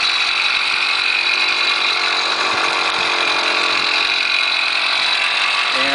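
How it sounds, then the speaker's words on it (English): A Groovy motor engine on a Triple Threat PedalChopper motorized bicycle runs at a steady high buzz, loud and close, droning without a break for the whole stretch. "This is a good running motor. This is the Groovy motor."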